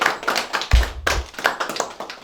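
Applause from an audience at a meeting with veterans of the Patriotic War in Dashkasan district, heard as a steady run of hand claps with a louder burst near the middle.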